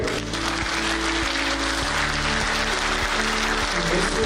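Audience applause for a first-place award winner at the concluding session of a conference on global partnerships and resilience, a steady wash of clapping across a hall under a low electrical hum.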